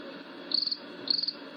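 Crickets chirp in two short bursts of rapid, high trills against a quiet night-like background.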